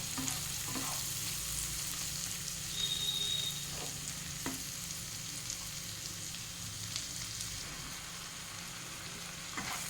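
Chopped tomatoes fry in a pan with spices for a spicy chicken sauce, giving a steady close sizzle with faint crackles and occasional stirring scrapes throughout, no voices.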